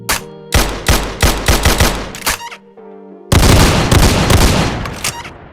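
Rapid bursts of weapon fire from a homemade lightgun rail shooter, loud sharp shots in quick clusters, a brief lull, then a sustained dense volley of gunfire.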